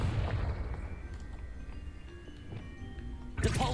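Confringo fire spell cast in Hogwarts Legacy on PS5 produces a deep rolling rumble of blasts, ending in a sharp, louder burst of explosive noise.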